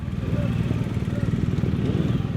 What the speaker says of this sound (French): Des motos rugissantes, des motards venus de partout, des moteurs qui vrombissent.